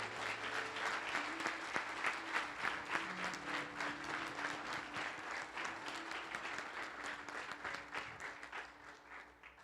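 A church congregation at a men's retreat gathering applauds, dense steady clapping with a few louder bursts, fairly distant and continuous for several seconds, with faint voices and a low hum beneath.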